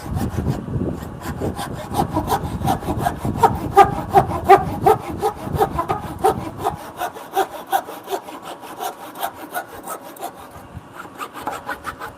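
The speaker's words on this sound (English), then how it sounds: "The knots are pinching my saw and everything" A hand saw cuts a dovetail in knotty wood with rhythmic back-and-forth strokes, loud and close at first, then lighter, quieter strokes after a brief pause.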